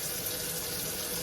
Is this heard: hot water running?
yes